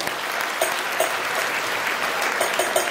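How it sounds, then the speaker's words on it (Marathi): An audience at a Home Minister event in Paranda breaks into steady, dense applause that fills the room at even loudness, with a few brief tonal chirps near the end. "टाळ्या वाजू द्या एकदा यांच्यासाठी."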